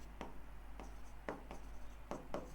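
Notes being written by hand with a pen during a geography lesson, with a handful of short, crisp scratching strokes spaced irregularly, close and quiet over a low steady hum, with no speech.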